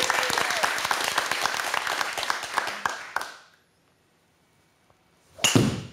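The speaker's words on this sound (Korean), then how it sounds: "격려의 박수가 좀 필요한 것 같아요." A small group claps in encouragement at a golf lesson, a quick run of close, sharp claps that stops abruptly, then silence before a loud burst near the end.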